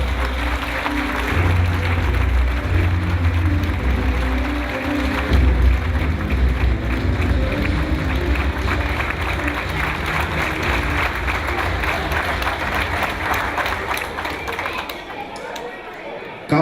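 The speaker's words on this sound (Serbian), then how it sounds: "pozivam vas da ih pozdravimo još jednom velikim aplauzom" Audience applause for school golf league players at the finale of a school golf league event in Serbia, a steady dense wash of clapping and crowd noise lasting throughout, tapering slightly near the end.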